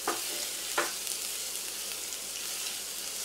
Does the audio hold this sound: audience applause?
no